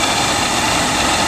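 A 2011 Ford Mustang GT with the 5.0 V8 and a Paxton supercharger fitted with a closed air box, running during testing: a loud, steady engine roar with no break across the short stretch.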